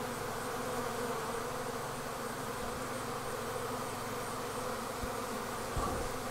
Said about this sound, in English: the bees that were flying around in the air, and there are thousands of them, have all decided to return to the colony